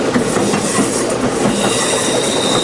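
A Western Maryland Scenic Railroad train climbs a steep uphill grade, giving a loud, steady, close rumble of rolling wheels and rail noise with faint clatter throughout and no voices.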